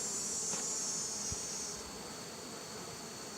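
Honey bees during a winter readiness hive inspection give a steady, close buzzing drone that holds through the whole stretch, easing off slightly partway through, with no voices.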